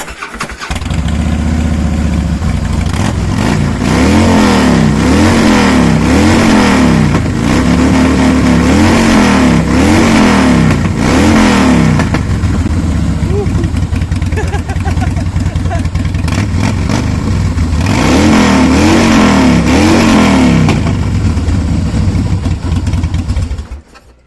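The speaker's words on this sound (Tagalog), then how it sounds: "Gaano ba kalakas ang Harley Davidson?" A Harley-Davidson motorcycle engine roars loudly and close up, revving repeatedly in rising and falling surges over a steady rumbling idle, with a brief lull midway before more revs.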